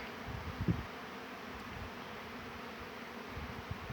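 A bee buzzes close by near the hive, a steady faint drone with a brief louder pass, under low background hum.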